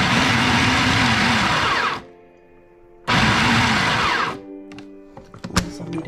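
A blender grinds broccoli into rice-sized bits, a loud broadband whirring roar in two bursts of about two and three seconds with a short pause between, then fading into scattered clinks and low rattles.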